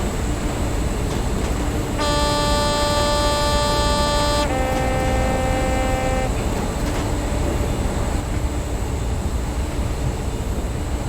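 A two-tone train horn from a Train Simulator locomotive on a 2012 route, one sustained blast of about four seconds over a continuous engine rumble.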